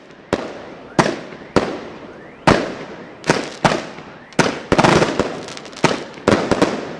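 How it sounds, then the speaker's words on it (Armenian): Festive fireworks at a Children's Day celebration in Sevan, Armenia, go off as about a dozen loud, separate booms spaced roughly half a second to a second apart, each with a short echoing tail. "Օրվա ավարտին համայնքի փոքրիկների համար տրվեց տոնական հրավառություն"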